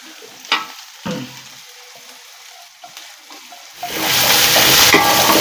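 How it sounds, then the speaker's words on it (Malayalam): Onion dropped into a pan of garlic, ginger and cinnamon, starting with a few clattering stirs and then swelling into a loud, continuous sizzle as it begins to sauté, close by with no talk. "അതിൻ്റെ കൂടെ നമ്മൾ സവാള ഇതായി ഇടണം"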